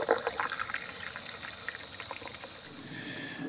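Water runs steadily from a well water hose spigot as a continuous, even hiss and rush that holds at the same level throughout.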